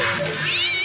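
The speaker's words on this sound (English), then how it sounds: "makes a stock cat sound effect as soon as we switch to George and Stuart's perspective" A stock cartoon cat meow from the Stuart Little show, one clear, close, drawn-out cry that rises in pitch toward the end and stands alone.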